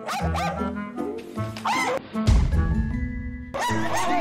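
A guard dog, a small protective pet, barks and growls in sharp bursts close by, with short pauses between outbursts.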